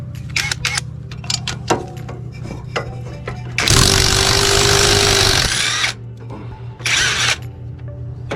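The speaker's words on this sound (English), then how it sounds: "Got to turn up my impact." Impact wrench on its low setting, used while changing a drive belt on a riding mower, giving a loud close burst of about two seconds and then a shorter one, between scattered clicks and handling noises.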